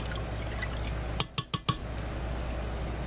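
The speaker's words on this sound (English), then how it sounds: "we'll give that a little stir" Chicken and water stirred in an electric Farberware pressure cooker, giving four quick close clinks and sloshes of a utensil against the pot over a steady low hum, no speech.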